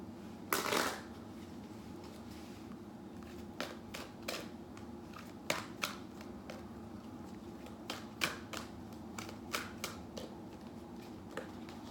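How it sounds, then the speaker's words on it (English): A deck of oracle cards being shuffled by hand, with soft, quiet flicks and taps recurring at irregular intervals after one louder rustle at the start. "I'm going to shuffle one more time."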